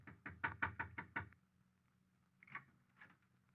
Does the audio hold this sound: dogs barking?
no